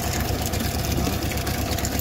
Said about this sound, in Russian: Вот приехал трактор поднимать ее.